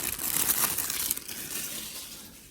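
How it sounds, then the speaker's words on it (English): Plastic packaging crinkles and crumples up close as a bifold wallet is unwrapped, a dense rustling that fades slightly toward the end, with no talking. "Go ahead and unwrap our Bifold Wallet."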